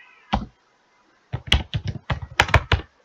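Computer keyboard typing while entering a search term on a university program website: one isolated keystroke, a pause, then a quick run of about ten close, crisp clicks with no talk.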